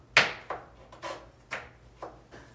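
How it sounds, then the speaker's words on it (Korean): Knife julienning peeled potatoes into thin strips on a cutting board while preparing french fries and rösti: five sharp chopping knocks, spaced about half a second apart, close and clear with no talk. "깨끗이 손질된 감자를 얇게 채 썰어줄게요"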